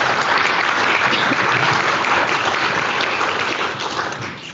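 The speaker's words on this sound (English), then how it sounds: "Big round of applause for all our speakers tonight." Sustained applause from an audience at an evening talk on herd immunity and the pandemic, dense steady clapping that fills the room and eases off slightly near the end.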